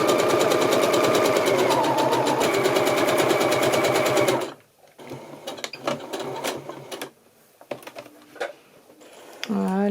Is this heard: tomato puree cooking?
no